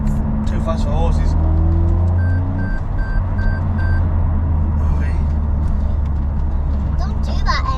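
A car sounds a short run of about five evenly spaced, high warning beeps over a steady engine and road rumble, with voices faintly audible.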